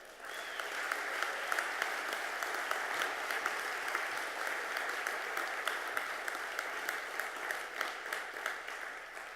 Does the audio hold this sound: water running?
no